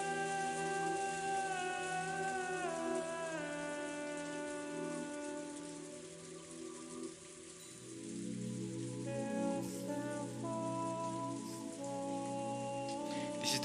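Steady rain patters and hisses alongside sustained, soft tonal music, with no voices, in the game Umineko When They Cry.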